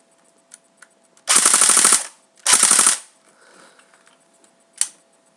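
An APS AK-74 airsoft rifle with electric blowback fires two short full-auto bursts of fast, crisp mechanical clacking, followed by a few faint isolated clicks and handling noises.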